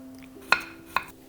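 A knife tip thinly slicing garlic cloves on a board for garlic chips makes two sharp, quiet taps about half a second apart over a faint steady hum.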